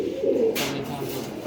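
Pigeons coo at a market stall, one soft, low throaty coo close by, followed by faint background rustle.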